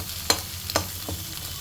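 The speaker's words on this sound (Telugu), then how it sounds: "సో 3 eggs వీటిని కొంచెం ఫ్రై చేసుకుందాం" Three eggs fry in a pan under a low sizzle. A spatula stirs and scrapes three times in quick succession.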